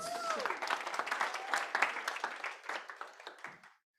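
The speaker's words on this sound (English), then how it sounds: "Give her a round of applause" A workshop audience applauds, a dense burst of many hands clapping that continues for a few seconds, then thins out and stops abruptly, with a brief vocal whoop near the start.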